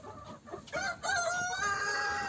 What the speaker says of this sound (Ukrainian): мої півники легорні долматинці